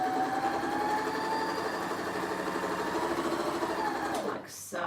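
A sewing machine runs steadily while stitching the bottom edge of a small fabric mini purse, a continuous close-up whirring hum that stops abruptly near the end.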